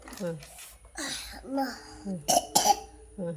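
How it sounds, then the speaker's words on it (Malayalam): A three-and-a-half-year-old boy babbles softly, then two quick, close coughs break out before the talking resumes. "ചുമയുണ്ടോ"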